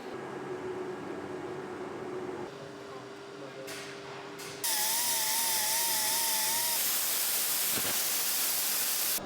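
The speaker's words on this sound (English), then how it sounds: "We're gonna grind over these sections with some Scotch-Brite so that they'll shine through the paint." A Ferrari metal valve cover is ground with a Scotch-Brite pad on a power tool, starting as a softer motor whir, then jumping midway into a loud, harsh, hissing abrasive rush held close and steady.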